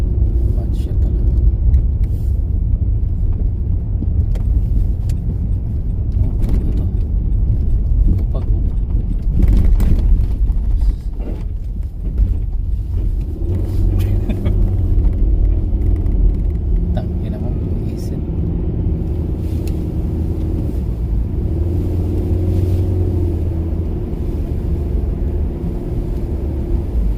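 Trucks and cars roll along a snowy road during an Edmonton snowstorm, making a steady, low traffic rumble close by. A person talks over the engine noise throughout.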